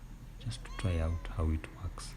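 A pet cat meows twice, two drawn-out calls close to the mic in a small home garden where carrots and spinach are grown, while a person speaks softly around and between the meows.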